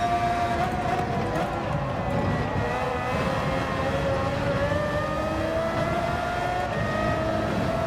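Car engine in the racing game Gran Turismo 7 drones steadily throughout, a continuous rising and falling engine tone under faint background noise, with no clear speech.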